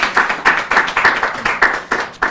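A small group claps for the winning team at a church Bible quiz contest, about eight loud, close, evenly spaced claps in a steady rhythm.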